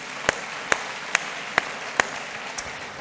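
A church congregation claps in unison, six sharp, evenly spaced beats about half a second apart over a soft hum of the room.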